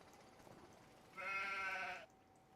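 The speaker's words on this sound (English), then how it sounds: "Can I pat the sheep?" A sheep in Farming Simulator 25 gives one clear bleat lasting under a second against a quiet background.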